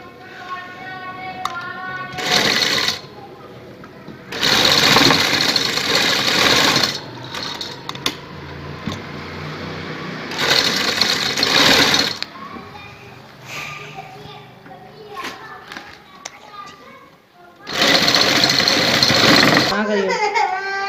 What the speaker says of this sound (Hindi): जो गला हमने सीधा किया है उसकी किनारे किनारे पे सिलाई लगाएंगे